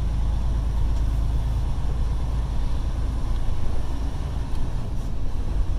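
Inside a semi truck cab with an eight-speed automatic transmission on adaptive cruise, a steady low engine drone and road rumble carry on throughout, with a faint, subtle shift in tone as the gearbox upshifts.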